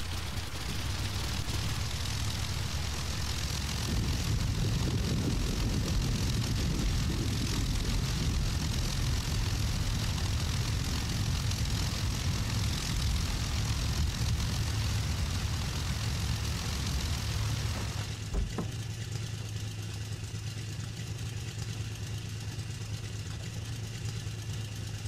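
Messerschmitt BF-109 engine running in the DCS flight simulator, a loud continuous propeller drone and throb that holds steady for most of the run, then shifts to a smoother, lighter hum near the end.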